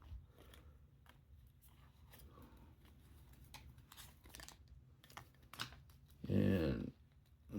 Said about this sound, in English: So let's get this hang tag off.